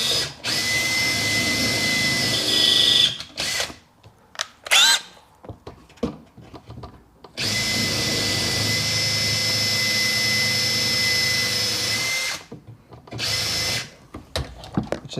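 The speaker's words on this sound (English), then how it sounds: "Now I got to take the bracket back off, drill it, mount it." A loud power drill runs in long sustained bursts, grinding through a metal bracket on a Sea-Doo 4-TEC up close, separated by brief pauses and clanks.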